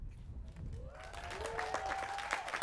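Audience applause at the College of Alameda 2024 graduation ceremony, steady crowd clapping throughout with a musical tone or whistle gliding in over it partway through.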